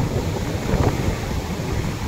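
Strong waves surging against a damaged concrete revetment seawall, a constant loud rushing wash mixed with wind noise on the microphone, with a slightly heavier surge near the middle.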